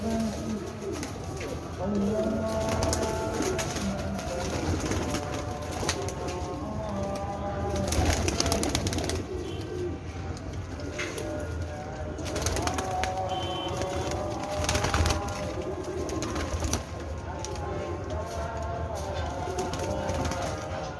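About thirty pigeons of several breeds coo in soft, rolling calls close by, with scattered rustling and thumps among them in a busy enclosure.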